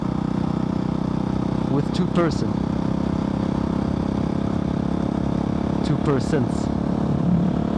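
A Husqvarna 701 single-cylinder motorcycle with an Arrow exhaust rumbles steadily and loudly throughout as the rider works the throttle, with brief rising whistle-like sweeps layered over the engine drone while people speak over it.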